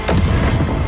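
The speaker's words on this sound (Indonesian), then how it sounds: "terdengar suara ledakan dari arah gua ajaib" An explosion sound effect from the Dr. Stone anime, set off near a cave, hits as a single sharp, loud blast that breaks into a heavy, rumbling boom and then fades.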